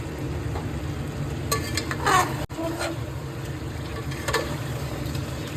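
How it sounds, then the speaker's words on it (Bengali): Chicken kanti masala is stirred and fried in a pan, making a continuous sizzle with bursts of scraping from the spoon and a brief sharp knock against the pan partway through. "এটাকে খুব ভালোভাবে নেড়ে নেড়ে পুরো কষিয়ে নিতে হবে এটাকে।"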